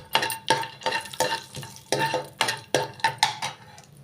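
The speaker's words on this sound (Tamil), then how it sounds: "முந்திரி பருப்பும் பாருங்கள் நெய்யில் பொரித்து எடுத்துக்கிட்டேங்க" Cashew nuts frying in ghee are stirred in a pan, giving a steady series of about ten rhythmic scraping strokes over a soft sizzle, close and clear with no talking.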